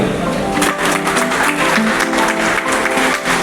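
An audience gives steady applause to honour invited guests at a gathering, a dense, continuous patter of many hands clapping at close range, with voices faintly mixed in.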